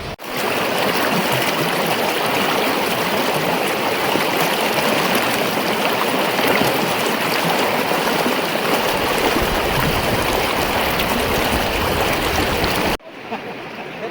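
Water from a hot spring on the Kargil to Leh road gushes and bubbles up in a dense, steady roar that lasts almost the whole stretch. It stops abruptly near the end.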